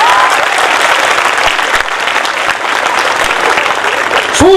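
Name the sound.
audience applause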